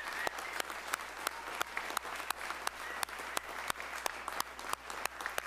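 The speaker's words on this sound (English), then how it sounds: "one more round of applause for all of them" An audience at a Texas MSF commencement ceremony gives the seated graduates a steady round of applause, with sustained clapping and evenly spaced louder claps throughout.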